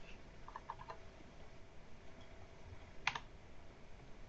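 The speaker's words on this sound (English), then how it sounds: "I'm going to go ahead here and type in some numbers." Numbers being typed on a computer keyboard while working in Word 2013: a few soft, quick key clicks near the start, then a single sharper tap later, faint and isolated in a quiet room.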